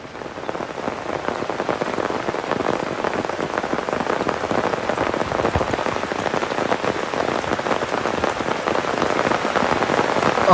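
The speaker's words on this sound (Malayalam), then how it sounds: "മഴ അതിശക്തമായി തന്നെ പെയ്തുകൊണ്ടിരിക്കുകയാണ്" Heavy rain pours steadily and loudly throughout, a dense, continuous hiss of drops drumming on surfaces, with no voices.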